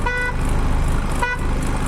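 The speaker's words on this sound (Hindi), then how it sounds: "ये हारन हमारा बोल रहा है" A car horn sounds twice in short beeps, a bright buzzy tone rising over the steady rumble of the idling engine close by.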